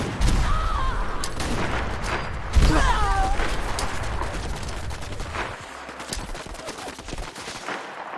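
Rapid bursts of gunfire from a modded weapon in Fallout 4 ring out against enemies, loud repeated shots with booming echoes filling the whole stretch.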